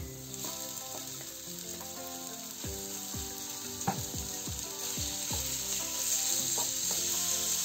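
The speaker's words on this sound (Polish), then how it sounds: "Delikatnie ją teraz podsmażamy." Continuous hissing sizzle of onion and meat frying in a pan, with repeated scraping and tapping of a spatula stirring throughout; dish of fried rice with meat and vegetables.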